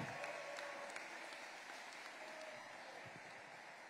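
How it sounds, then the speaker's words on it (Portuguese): Faint, distant applause from a church congregation during a sermon, a steady soft patter of many hands lasting a few seconds with no voices over it. "Pode aplaudir, pode aplaudir."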